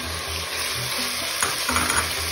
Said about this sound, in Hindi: अब यहाँ पे जो है हम शिमला मिर्च ऐड कर देंगे